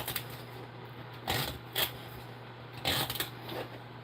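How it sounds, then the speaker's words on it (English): A knife chops celery and peppers on a cutting board in a few quick bursts of close, crisp cuts separated by pauses, with no talking. "I'm just cutting up celery, peppers."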